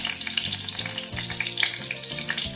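A bay leaf, whole cumin, cinnamon pieces, cardamom and clove crackle and sizzle in about half a spoon of hot oil for a paneer curry, with a steady close hiss and faint low tones underneath.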